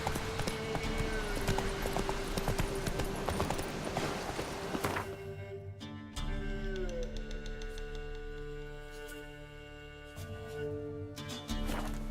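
Roach, Geralt's horse in The Witcher 3: Wild Hunt, clip-clops along in a steady hoofbeat rhythm, first amid busy ambient game sound and music, then under a quieter musical backdrop.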